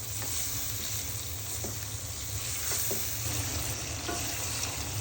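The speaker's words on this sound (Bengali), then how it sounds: "পটল একটু আগে কষিয়ে নিব" Pointed gourd (potol) frying with spices in a pan, a steady close sizzle with faint stirring scrapes throughout, no voices.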